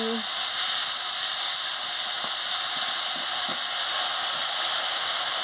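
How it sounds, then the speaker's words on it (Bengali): Chinki greens hiss and sizzle steadily in hot oil with five-spice tempering, a continuous close frying noise with a few faint knocks. "ফোড়নের সঙ্গে চিংড়ি শাকটা দিয়ে দিচ্ছি। দিয়ে ভালো করে ভেজে নিচ্ছি।"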